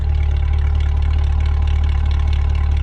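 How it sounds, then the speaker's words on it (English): A C8 Corvette with an aftermarket exhaust idling with a deep, throaty exhaust rumble, steady and loud up close, no voices. "check out this amazing sounding exhaust"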